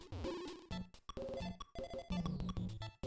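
Dr. Mario arcade-style game audio playing at normal speed, bright choppy electronic melody notes and blips in quick, irregular bursts, fairly faint with no talk.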